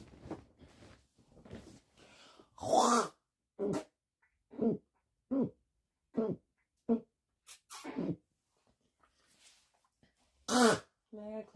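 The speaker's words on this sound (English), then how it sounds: "I gotta clear my throat out because now my throat itches." A person with an itchy throat from allergies clears it repeatedly, a series of short, rough, evenly spaced guttural bursts close to the mic, mixed with a few louder harsh coughs and some brief speech early on.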